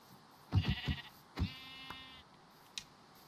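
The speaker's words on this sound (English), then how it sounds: "Sheep." Sheep in Minecraft bleat alone in a few quick, nasal calls, a short burst followed by a single longer bleat, fairly faint and close with a soft background and no talking.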